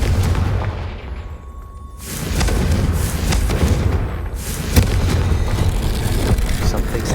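Confringo explosive spell from Hogwarts Legacy, heavy booming blasts and rumbling bursts over loud game noise, with a sharp thump near the end, close and continuous.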